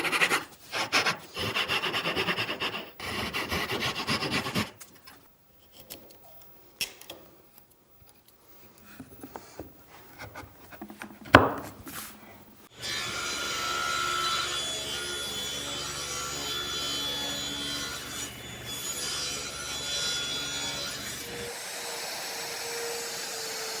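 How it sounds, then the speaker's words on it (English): A chisel is worked along a wooden edge during a Japanese-style end table build, giving intermittent scraping and shaving strokes with quiet gaps. A steadier whirring machine noise takes over for the latter half, then stops near the end. "you can just use a chisel to clean that edge up."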